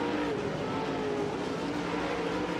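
Dirt late model race cars roar side by side around 34 Raceway during the MARS Slocum 50, a dense, loud, unbroken engine drone with layered motor tones and no break in the noise.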